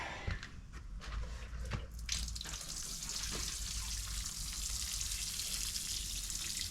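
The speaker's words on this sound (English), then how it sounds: "I'm over here filling a water pail with a 5-gallon bucket." Water from a 5-gallon bucket pours into a pail in a barn during a dry-pour concrete job, a steady close splashing rush with a few sharp drips and slaps at the start.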